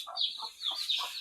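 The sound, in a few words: chickens and chicks clucking on a farm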